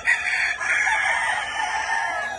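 A half-blood gamecock rooster crows once, a loud, close, drawn-out call lasting a couple of seconds with no talk over it.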